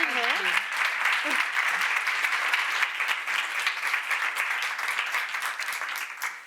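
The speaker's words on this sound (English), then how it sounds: "let's just give Sarah a round of applause" An audience at a women entrepreneurs event bursts into sustained applause for a speaker, dense clapping from many hands that holds steady and fades slightly toward the end, with a brief voice at the start.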